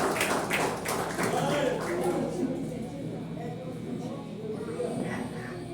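Church congregation clapping together in praise for a presbyter, a dense rhythmic wash of applause from many hands, strongest at the start and then thinning, with voices talking over it.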